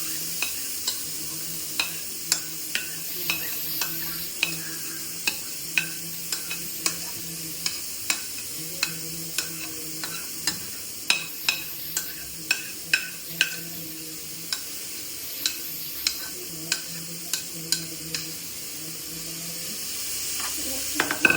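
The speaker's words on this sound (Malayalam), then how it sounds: "നന്നായിട്ടൊന്ന് ഇളക്കി കൊടുക്കാം." Grated carrots frying in hot ghee in a pan crackle and hiss steadily, while a spatula scrapes and taps the pan in a regular rhythm about once a second throughout.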